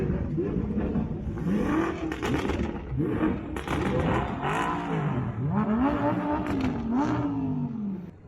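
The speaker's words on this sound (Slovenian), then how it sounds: "Precej hitra četica čist norih avtomobilov, ki se pelje na štart." A pack of fast sports cars, among them a Porsche Taycan, a Lamborghini, a BMW M5 and an Audi RS6, drive to a race start. Several loud engines rise and fall together in overlapping revving whines that run without a break.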